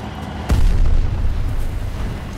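In Battlefield 2042, a landmine detonates under a tank: one sudden, heavy, booming blast that rumbles and fades over the next two seconds against continuous game noise.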